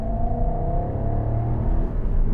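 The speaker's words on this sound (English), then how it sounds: "Hit the gas again." A 2012 Jaguar XK 5.0 V8 accelerates from inside the cabin, a loud, steady low engine drone with gradually rising tone and no voices.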